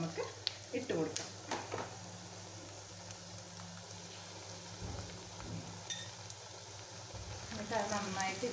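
Red chili masala paste sizzling with onions in a pan for Kerala-style mackerel fish curry, a soft continuous frying hiss with occasional stirring clatter, heard close beneath intermittent talking.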